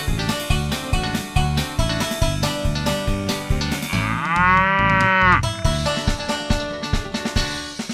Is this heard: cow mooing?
yes